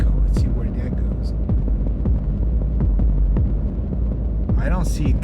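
A modular synthesizer drone run through an echo effect gives a steady low throbbing hum with pulsing repeats throughout, and a voice briefly breaks in near the end.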